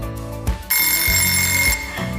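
An alarm sound effect rings with a bright electronic tone that holds steady for just over a second. It sits over a steady musical backing and starts and stops sharply.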